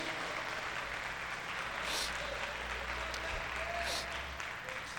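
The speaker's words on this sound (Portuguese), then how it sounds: "Aplauda o Senhor por isso." Church congregation applauding during a Portuguese-language sermon, a steady wash of clapping from many hands that swells and fades slightly, with a low hum underneath.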